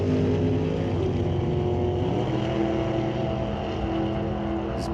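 A 1967 Camaro drag race car makes a qualifying run at a drag strip, a loud sustained engine roar holding steady throughout, with no voice over it.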